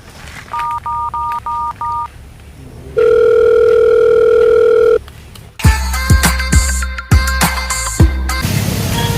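A few short repeated tones beep, then a long steady tone holds, followed by a series of sharp clicks and clattering electronic ringing.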